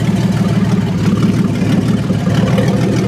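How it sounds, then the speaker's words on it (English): A 1994 Chevrolet Astro van engine idles smoothly and steadily up close, a low, even rumble with no revving. "Got a pretty good idle right now."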